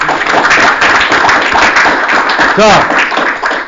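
A lecture audience at a law and AI talk claps along, loud dense applause filling the clip, with a voice briefly rising above it partway through.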